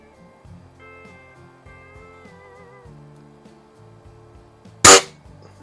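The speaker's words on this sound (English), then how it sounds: "Shooting off a bench rest, no less shooting offhand." A Quackenbush Model 5 combination rifle, a .22 caliber pellet and rimfire gun, fires once at a target from a bench rest, a single sharp loud crack near the end after a stretch of quiet music-like tones.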